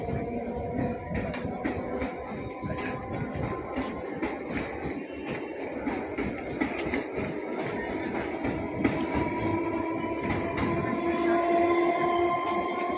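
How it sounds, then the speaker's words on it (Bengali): A train pulls out of the station, heard from above on an elevated spot: a steady, continuous rolling rumble and rail clatter with a few high squeals, sustained throughout at moderate distance. "ট্রেনটা চলে যাচ্ছে আমাদের স্টেশন ছেড়ে"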